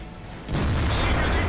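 A booming tank cannon blast in a tank video game erupts after a brief quiet lead-in, followed by a dense rumbling roar that carries on to the end.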